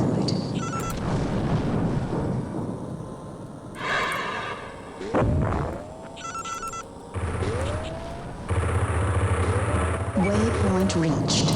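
Missile explosions and weapon blasts in the mech combat game Earthsiege 2, a series of booming bursts and whooshes over a steady engine drone, loud and close, with a synthetic voice speaking at times.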